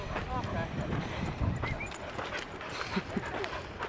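A dog barks a few times on a hiking trail amid outdoor noise and people talking, the barks fairly close and mixed with footsteps and rustle.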